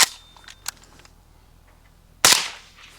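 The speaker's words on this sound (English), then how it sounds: "It sounds great, and it's such a soft recoil impulse with that adjustable gas." A Romulus 5.56 rifle with an adjustable gas system fires a single sharp, loud shot after a short lull, preceded by a few faint clicks and handling noises.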